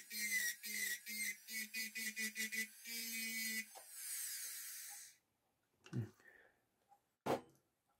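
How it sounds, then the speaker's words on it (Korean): A round bur grinds silver during jewelry work, giving a rapid series of short, buzzing high-pitched bursts and then one longer whine, followed by quiet and a few faint knocks. "요거 이제 라운드바입니다. 라운드바거든요."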